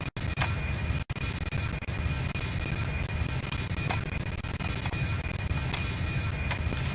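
Steady broadband roar of an Airbus A321 airliner in flight in the Extreme Landings flight simulator, a constant engine drone with a faint tonal whine, continuous and even throughout.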